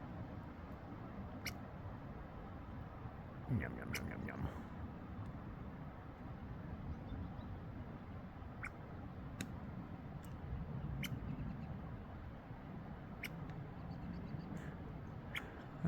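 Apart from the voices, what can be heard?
small rodent squeaking at hiker from tree stump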